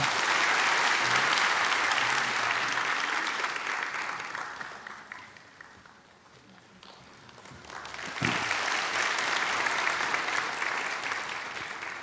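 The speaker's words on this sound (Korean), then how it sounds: "우리 박수로 이 아이를 축복합니다" Congregation applause in a Korean Sunday church service, blessing a child after a prayer; sustained clapping from a crowd that fades midway, then swells again to full strength.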